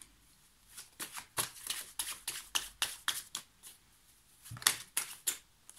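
Tarot cards are shuffled close by in quick, irregular bursts of crisp riffling and slapping, several flurries separated by brief pauses, soft and with no talk.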